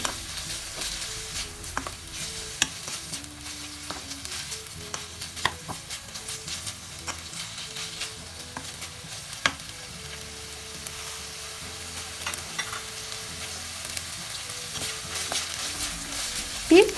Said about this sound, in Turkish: İnce ince doğradığım havuçlarımı ilave ediyorum. Ve güzelce karıştırıyorum.